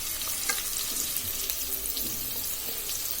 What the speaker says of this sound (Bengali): এরপর আমি কেটে রাখা শিম আর বেগুন দিয়ে দিচ্ছি।